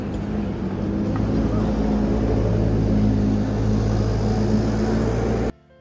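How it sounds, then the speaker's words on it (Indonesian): An airplane passing overhead outside a football stadium in Manchester, a loud steady engine drone with low rumbling tones that holds strongly for over five seconds and then cuts off abruptly. "Ada pesawat ya? Ada pesawat."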